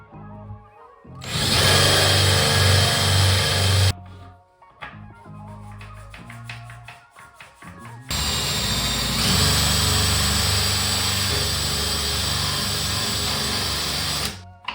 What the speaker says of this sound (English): I'll take it back out and keep drilling until it is flush.